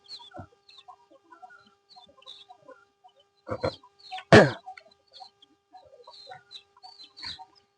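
Scattered soft clucking from several free-range native chickens in a quiet setting, broken by a few louder squawks and a sharp flurry near the middle.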